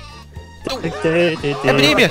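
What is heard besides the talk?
sheep bleating in Worms Armageddon video game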